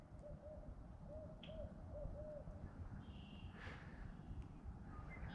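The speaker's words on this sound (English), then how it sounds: "That's what a barred owl sounds like." Wild barred owl calling outdoors on a day trip, a soft distant series of hoots in a rising-falling pattern over steady background noise, followed by a few faint higher chirps.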